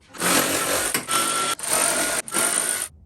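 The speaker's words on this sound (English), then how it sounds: "now I'm gonna transition to the Milwaukee ratchet." A Milwaukee electric ratchet whirs loudly and close by in three bursts while backing out bolts with a 12mm socket on a Toyota 3.4L V6 5VZ-FE engine, each run broken by a short pause.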